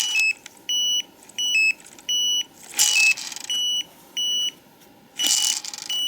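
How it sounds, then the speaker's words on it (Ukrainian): An electronic fishing bite alarm pager beeps in short repeated bursts of high tones, with occasional rushes of noise between them, close and clear. "І чуємо пейджер пікає"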